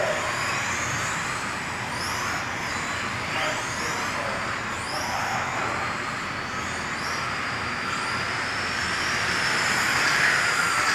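Vaterra Euro RC trucks racing around a hobby-shop track in an A-main, a steady loud whine of small electric motors that rises and falls as the trucks pass close by, with broad continuous track noise throughout and no talk.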